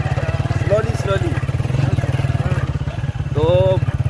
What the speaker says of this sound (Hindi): ये ड्राइव कर रहे हैं बाइक।